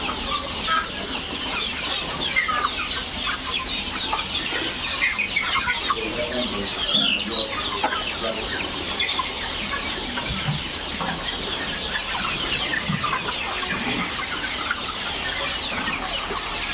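A flock of layer pullet chickens on a poultry farm keeps up a dense, continuous chorus of clucking and soft calls, with occasional louder squawks standing out from the steady background.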